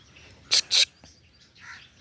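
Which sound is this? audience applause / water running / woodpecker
woodpecker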